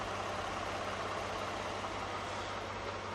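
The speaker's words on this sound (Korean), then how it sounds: "엔진 소음 먼저 들려드리면은 이게 SUV가 맞나 싶을 정도의 엔진 소음이고요" A premium imported SUV idles with its engine bay open, a faint, steady, even hum and hiss with no change in rhythm.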